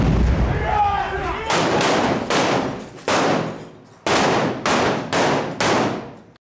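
Bursts of machine gun and grenade launcher fire during an assault on a building: eight sharp, loud reports in irregular groups, each ringing out into a long echoing decay, following a softer rumbling opening.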